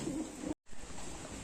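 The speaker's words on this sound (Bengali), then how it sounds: "এখন আপনাদের একটা সিঙ্গেল এলাহাবাদি নর পায়রা দেখাচ্ছি" Allahabadi pigeons cooing nearby, with low, soft throaty coos that break off for a moment and resume within a second and a half.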